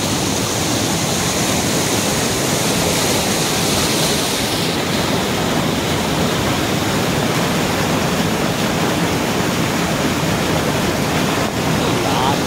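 Ghagra waterfall in Belpahari during the monsoon, a loud, unbroken rush of flowing water that stays constant and near throughout.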